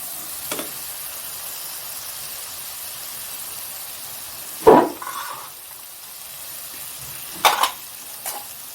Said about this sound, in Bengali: কষিয়ে নিই